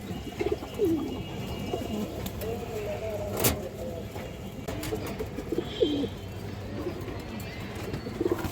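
Pigeons coo in a loft holding a big black-necked female pigeon, with soft repeated low calls under steady background murmur and occasional talk nearby.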